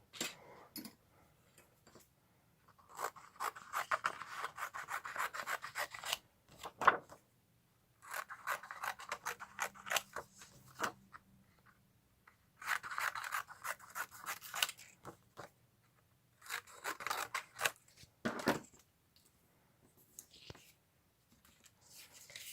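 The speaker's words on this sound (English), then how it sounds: "it just gives me a rough idea how to cut this out" Scissors snip and slide through card being cut out for a handmade Christmas card, in several close bursts of crisp cutting separated by brief pauses.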